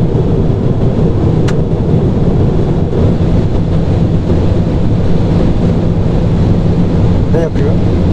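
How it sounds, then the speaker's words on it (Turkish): Peugeot 208 GTI engine at full throttle while driving at high speed, a loud, steady broadband roar with heavy wind and road noise filling the whole stretch and no pause. "Şu an tam gaz var."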